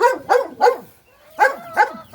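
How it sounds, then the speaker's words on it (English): A dog barks repeatedly at close range, five sharp barks in two quick pairs separated by a short pause, with a faint whine between. "And barking makes Lucky happy."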